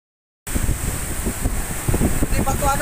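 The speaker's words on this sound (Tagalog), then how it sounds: "Grabe lakas ng hangin, guys." Strong typhoon wind at night during Typhoon Odette, a loud continuous roar that starts abruptly after a brief silence, with gusty rustling and a voice talking under it.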